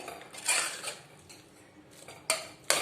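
Ladle pressing and mashing cooked pav bhaji vegetables in a pan, with a few soft scraping strokes and sharp metallic clinks of ladle against pan, fairly close and alone.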